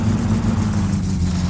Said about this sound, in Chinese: 只是前面这个引擎声现在变得有点吵了